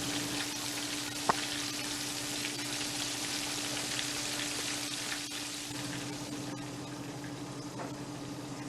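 Chicken tenders in hot oil give off a steady, close, even sizzle with a few faint pops and clinks, continuing without pause and with no one talking.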